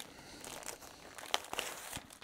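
A fabric package for a quilt-as-you-go baby bib kit is opened, with soft crinkling and rustling of wrapping building to a few sharper crackles, close and fairly quiet with no talk.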